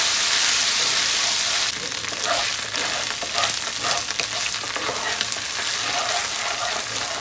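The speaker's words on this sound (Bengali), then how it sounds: "এই তেলের মধ্যেই আর আমি একটুখানি সর্ষের তেল অ্যাড করে তেজপাতা, শুকনো লঙ্কা, এলাচ আর জিঞ্জার গার্লিক পেস্ট দিয়ে আমি একটুখানি এই মশলাটাকে ফ্রাই" Spices sizzle and fry steadily in mustard oil with bay leaves, dried red chilies, cardamom and ginger-garlic paste for a butter chicken masala, a loud continuous hiss broken by occasional stirring scrapes.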